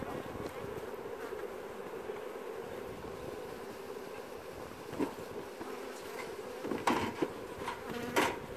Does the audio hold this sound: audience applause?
no